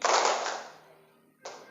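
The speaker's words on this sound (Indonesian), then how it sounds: "tepuk tangannya 2 kali" Audience clapping hands during a motivational session at an Islamic boarding school in Banjar, heard as a loud burst that fades, then a second sharp burst near the end.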